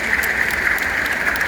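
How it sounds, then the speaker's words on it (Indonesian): An audience claps steadily and densely throughout at a hajj pilgrims' send-off ceremony in the Gedung Haji hall in Pati, a loud, even wash of many hands with no voices. "ya beri aplaus Bapak Ibu"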